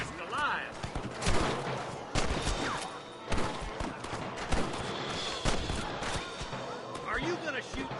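Gunfire aimed at rustlers in Red Dead Redemption on PS5, sharp repeated shots in an irregular volley at steady loudness, with voices and game ambience underneath throughout.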